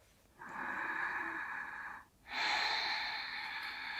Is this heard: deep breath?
yes